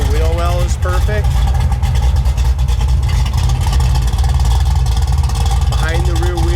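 A 1973 Camaro's engine runs loud and steady with a deep, rumbling low end throughout, while a voice talks briefly over it.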